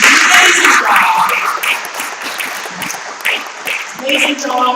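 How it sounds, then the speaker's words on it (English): Rotary club meeting audience applauding a departing member; clapping runs throughout at moderate level, mixed with cheers and voices talking over it, rising again toward the end. "because it is Diane's last official Rotary, let's all give her a big round of applause."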